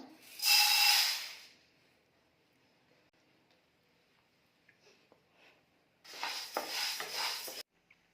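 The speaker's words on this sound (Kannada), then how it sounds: "ಇದನ್ನು ಚೆನ್ನಾಗಿ ಕಡಿಮೆ ಉರಿಯಲ್ಲಿ ಇಲ್ಲ ಅಂದರೆ ಒಂದು ಐದರಿಂದ ಹತ್ತು ನಿಮಿಷ ಇದನ್ನು ಚೆನ್ನಾಗಿ ಫ್ರೈ ಮಾಡ್ಕೋಬೇಕು" Green gram is dry-roasted in a kadai on low heat, with two bursts of rattling, scraping stir and rustling grains, one short and one longer, separated by near silence with faint clicks, close by.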